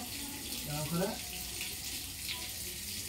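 A tap runs while a face is washed during wudu: a faint, soft stream of water with brief splashes near the start, fairly quiet throughout.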